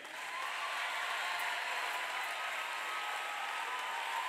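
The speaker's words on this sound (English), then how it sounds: "Continue to clap as she comes." A church audience claps steadily as a minister is welcomed to sing. The applause is even, fairly soft and somewhat distant, and holds without a break.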